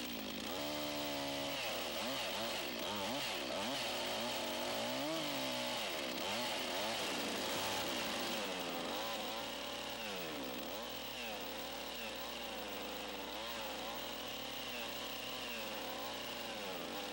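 A chainsaw cuts through a log along a marked line while shaping roof trusses for a log cabin, its engine roaring loud and close throughout, pitch dipping and rising as the chain bites into the wood.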